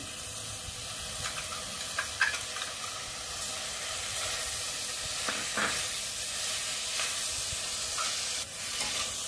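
Soy sauce hits soybean chilli sizzling in a hot pan, giving a steady loud frying hiss with a few brief stirring scrapes and spatters throughout, no voices.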